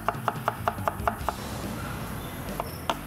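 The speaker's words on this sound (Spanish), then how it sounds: "Voy a utilizar dos cebollas amarillas, cuatro dientes de ajo. Lo voy a cortar así finito." A knife chops two yellow onions and four garlic cloves finely on a board, a quick run of about eight even, crisp taps, then a pause and two more chops, close and clear with no talking.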